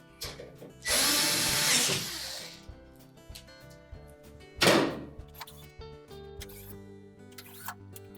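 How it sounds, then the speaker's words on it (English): Power drill driving screws into the metal side panel of a Whirlpool range, with a loud burst of drilling followed by a shorter second run and scattered clicks and thunks from handling the appliance. "we'll just continue to put the rest of the screws in along the side"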